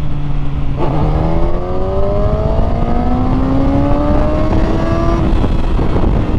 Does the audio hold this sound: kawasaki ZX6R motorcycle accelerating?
yes